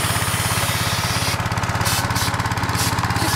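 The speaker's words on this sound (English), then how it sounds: "This is homemade kind of wood splitter that apparently only works when it feels like it" A homemade wood splitter runs with a steady, loud mechanical chugging throughout, its rapid pulsing motor rhythm joined about halfway through by a bursting high-pitched hiss that cuts in and out in several stretches.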